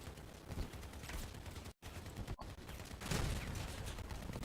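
Gunfire in the Crossout vehicle combat game, dense continuous bursts of shooting with brief dropouts, loud and sustained without any talking.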